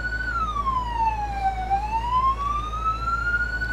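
A siren wails steadily, its pitch sweeping down and then climbing back up in one slow cycle over a constant low hum.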